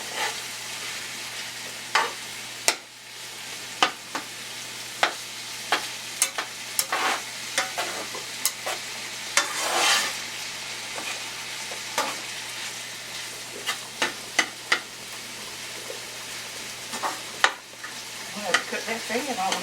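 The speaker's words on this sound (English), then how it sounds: "you don't need to see me brown this here meat" Ground meat browning for an Italian sausage and beef lasagna sizzles steadily in a pan, with sharp clinks and scrapes of stirring and a low constant hum underneath, close and without talk.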